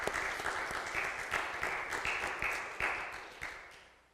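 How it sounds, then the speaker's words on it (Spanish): A church congregation breaks into loud, sustained applause. Repeated swells of dense clapping rise and fall without pause. "Démosle un buen aplauso al Señor."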